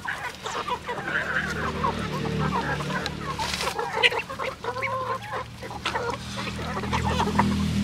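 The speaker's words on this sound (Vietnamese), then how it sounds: "Gà này là gà thảo vườn á." Free-range garden chickens on a rural Vietnamese farm cluck and squawk continuously, several birds close by with overlapping calls, over a low steady hum, no talking.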